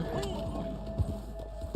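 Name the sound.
horse running in Red Dead Online video game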